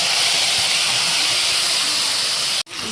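Washed Gobindobhog rice going into hot oil spiced with bay leaf, panch phoron and dried chilli in a kadai, a loud, steady hiss of wet grains hitting the oil that cuts off sharply near the end.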